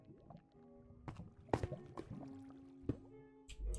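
An empty bucket is filled with water in a video game: a short watery scoop and splash among game music tones and a few sharp clicks, with no talking.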